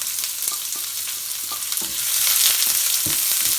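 Onion dropped into hot oil with mustard seeds, cumin and garlic for a spring onion and prawn dish, a bright, steady hiss that grows louder midway, with occasional stirring knocks and no talking.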